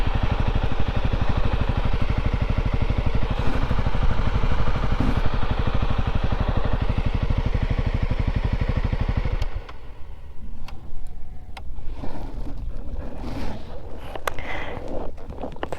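Honda 300L Rally motorcycle on old dirt roads, its engine running loud and steady with a dense, even throb, then cutting out about two-thirds through, leaving quieter clatter and outdoor noise.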